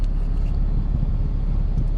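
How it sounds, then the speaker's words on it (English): Steady low engine drone and road rumble inside a moving truck, continuous and fairly loud with no talking, on the way to pick up a 1.8 turbo engine for a Corrado. "So we're in the truck"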